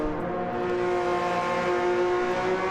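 A race car engine accelerating hard out of a hairpin, a steady loud tonal drone that climbs slightly in pitch, close and continuous with no talk over it.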